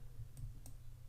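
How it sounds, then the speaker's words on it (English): Two quick, faint computer button clicks sound about a quarter second apart over a low steady hum in a quiet room. "I'm clicking all kinds of buttons here and not working."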